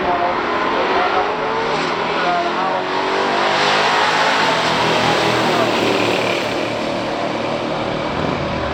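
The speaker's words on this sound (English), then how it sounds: "We have James Cright out of Bruce Township, Michigan with the 70 F85 350 W-31" A 1970 Oldsmobile F85 350 W-31 and a 1969 Dodge Super Bee with a 440 six-barrel Mopar engine run a stock drag race, their engines roaring loudly and continuously as they accelerate under an announcer's commentary.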